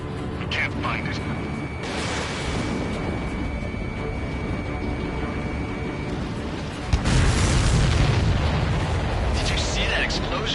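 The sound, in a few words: supply ship explosion in the video game Ace Combat 7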